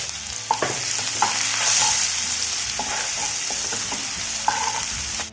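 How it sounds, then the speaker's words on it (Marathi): Two finely chopped onions fry in oil in a kadhai for a dhaba-style egg masala, a steady sizzle broken by repeated scraping strokes of a spoon against the pan. "आता या तेलामध्ये आपण मगाशी बारीक चिरून घेतलेले दोन कांदे छान लाल होईपर्यंत आपल्याला भाजून घ्यायचे आहेत"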